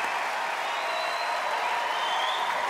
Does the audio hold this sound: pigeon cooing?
no